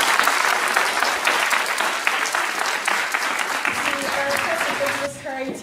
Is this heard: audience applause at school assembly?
yes